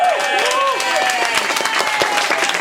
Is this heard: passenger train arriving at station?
no